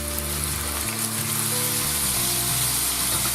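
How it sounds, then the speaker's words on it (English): Steady, dense sizzling of coppa and pancetta frying in hot olive oil, loud and close, with a continuous crackle throughout and no talking. "we're going to start frying our coppa and pancetta"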